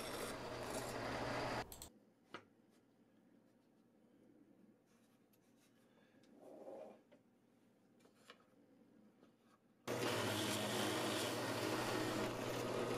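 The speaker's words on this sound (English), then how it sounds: "I use a 2-inch Forstner bit to cut a recess into the fence and the center block." A drill press with a 2-inch Forstner bit cuts a recess into a wooden fence and center block, a loud steady grinding rasp that cuts out into quieter rubbing and ticks before the drilling roars back, with no talking.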